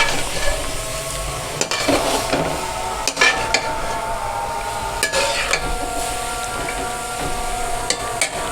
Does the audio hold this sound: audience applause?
no